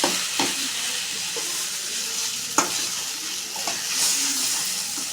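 Tomato rice being stirred in a sizzling pan, with a steady frying hiss broken by several sharp scrapes and clinks of the spoon against the pan.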